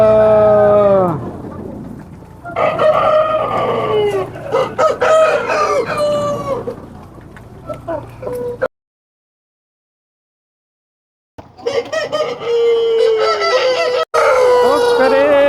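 A rooster on a chicken farm crows loudly and close by, with several long crowing calls, then a pause of silence, then more crowing and clucking.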